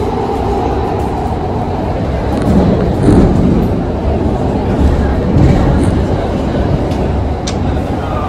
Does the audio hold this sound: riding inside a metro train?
yes